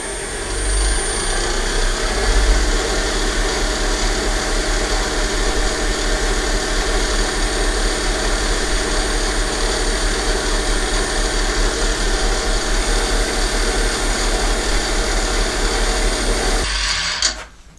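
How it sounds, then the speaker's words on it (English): Wood lathe spinning a turned wooden box while finishing wax is applied, a loud continuous motor whir with a steady rubbing hiss that holds evenly before cutting off near the end. "I'm going to apply a finishing wax. I'm going to turn the lathe back up."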